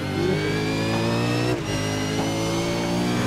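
Race car engine descending the mountain at Bathurst, a loud, sustained high-pitched drone with a brief dip partway through, like a gear change, before resuming at full pitch.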